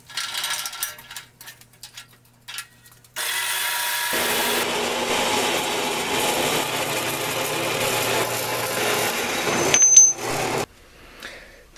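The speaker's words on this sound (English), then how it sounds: "So now I'm going to go cut it up and then drill the holes." A few clicks and handling noises, then a power saw whines loudly and steadily for several seconds before cutting off, followed by quiet clatter.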